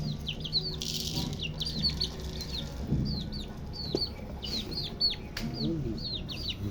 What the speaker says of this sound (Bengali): মুরগি আছে